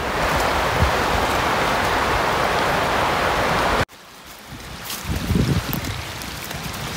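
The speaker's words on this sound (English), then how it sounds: "Next to the stream down there, which falls from the waterfalls up there." A stream fed by waterfalls runs nearby in a snowy camping area, a steady broadband rush of flowing water that drops abruptly partway through, then returns softer with a closer splashing burst.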